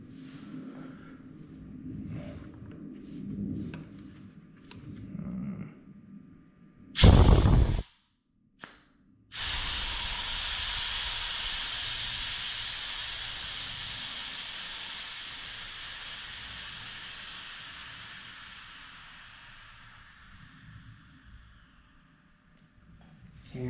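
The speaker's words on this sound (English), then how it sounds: "Let's deflate the tire, huh?" Air rushing out of a Dualtron Storm Limited electric scooter tire as it deflates: a brief burst, then a loud, steady hiss that runs on for about fourteen seconds and slowly fades.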